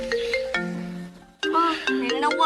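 A mobile phone ringtone for an incoming call plays a bright, repeating electronic melody in two phrases, with a brief dip in the middle, sounding fairly close and clear.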